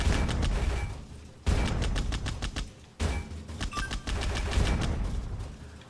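Rapid automatic gunfire mows down robots in the video game Heads Up: Bad Bots, loud dense bursts of shots broken by two brief pauses, with a low booming rumble underneath.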